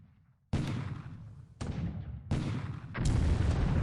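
Naval bombardment in War in the Pacific, with the destroyer Wakatake shelling a port: four heavy booming blasts in sequence, each with a rumbling decay, loud and spaced about a second apart.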